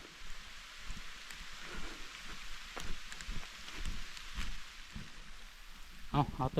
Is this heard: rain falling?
yes